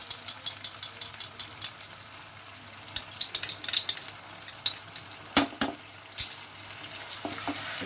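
Three tablespoons of whipped yogurt are stirred into frying chicken tehari, with rapid rhythmic spatula scrapes and clatter close up over a constant soft sizzle.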